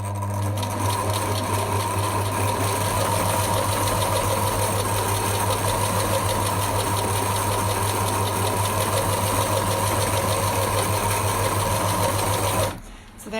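A sewing machine runs continuously at speed, a steady buzzing, rapid stitching hum close by that stops abruptly near the end.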